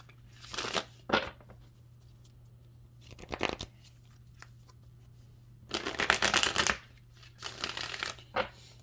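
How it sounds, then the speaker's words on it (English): Tarot cards being shuffled in several separate bursts, a quick riffling flutter each time with pauses between, close and fairly quiet, with a low steady hum underneath and no talking. "Okay, let's go ahead and pull some tarot."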